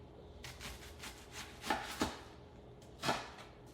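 A knife cutting through an onion on a cutting board, a few soft slicing strokes followed by three sharper chops against the board, close and fairly quiet with no voices.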